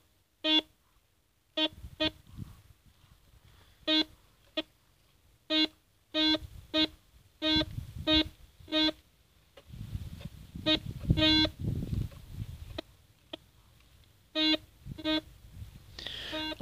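A Solfernus v2.6 metal detector during a ground test, giving a run of short, sharp electronic beeps in irregular bursts, some single and some paired, over faint rustling and handling noise.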